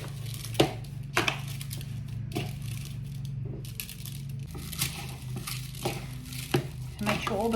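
Wet squishing and clicking as rice is mixed by hand into a meat stuffing for zucchini, with irregular close bumps over a low steady background hum.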